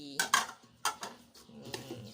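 Crisp clinks and scrapes of utensils against a bowl, several quick knocks in an irregular rhythm as food is mixed, close and fairly loud.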